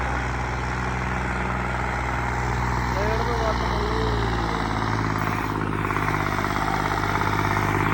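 A Sawraj 855 tractor strains at a steady heavy drone while hauling a 16-foot trolley loaded with soil on a field, with someone talking over the engine throughout.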